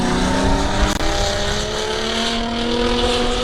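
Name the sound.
drift cars competing on track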